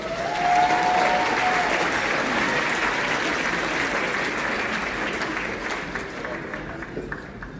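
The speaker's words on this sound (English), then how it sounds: "big round of applause for Daryl Locke." An audience at a birthday party gathering breaks into loud, sustained applause that starts strong and slowly tapers off over several seconds, with crowd noise mixed in.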